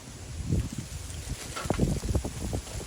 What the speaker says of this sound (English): And it's been windy today.